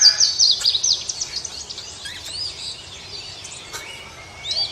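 A blue jay, a crow-family songbird, gives a series of bright, high chirping calls, fairly close and clear over a soft outdoor background with no talking.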